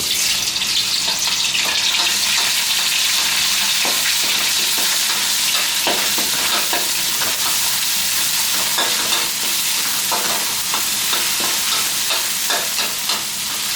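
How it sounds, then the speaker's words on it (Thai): Thai curry paste stir-frying in a pan, for a spicy stir-fried fresh catfish dish, makes a loud, continuous sizzle with frequent scraping and stirring clatters throughout, no speech. "ใส่เครื่องแกงลงไปผัดนะครับ"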